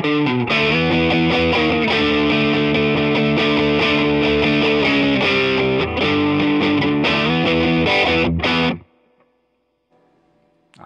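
A Westcreek Racer offset SG electric guitar with overdrive and the neck and bridge pickups combined plays a loud, sustained distorted chord riff for about nine seconds, then cuts off and rings out into near silence.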